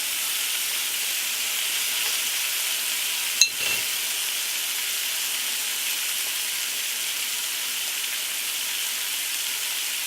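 Bacon strips sizzle steadily in a frying pan for a BLT sandwich, a constant close hiss with one brief clatter partway through and no talking.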